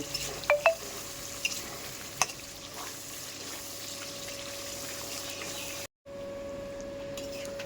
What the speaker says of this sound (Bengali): আমি আলু আর চিকেনটা এর মধ্যে দিয়ে দিয়েছি, দিয়ে এটা ভালো করে আমি কষবো।